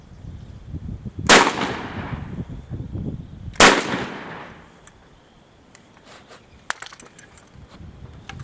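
JW-2000 coach shotgun fired outdoors with 8-shot target loads, two loud sharp blasts about two seconds apart, each trailing off into a decaying echo, followed by faint small clicks and clatter.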